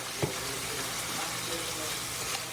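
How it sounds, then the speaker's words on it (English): Ground beef and turkey browning together in a pan give off a steady, broadband frying hiss at moderate level, with one brief clatter near the start. "Got the ground beef and turkey browning up here."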